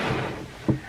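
A drawer full of false eyelashes is opened indoors, giving a low wooden rumble and then a single soft thud as it stops, close by and alone.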